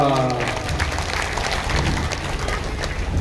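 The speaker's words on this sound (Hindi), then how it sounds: "एक बार सभी एक दूसरे के उत्साह वर्धन में तालियों की गड़गड़ाहट करें।" Broadband clapping from a devotional gathering's audience in Palamu, Jharkhand, sustained and steady throughout, with a voice audible at the start over the applause.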